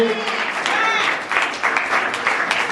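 Audience applause during an awards ceremony at a hotel, a continuous wash of clapping that fills the clip, with a voice audible over the start.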